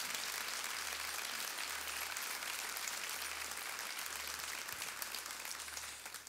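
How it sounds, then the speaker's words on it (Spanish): A church congregation applauds for the Lord during a Spanish-language sermon, a steady, dense wash of clapping that fills the room evenly and continues without a break, with a low rhythmic hum underneath. "Dele ese aplauso al Señor."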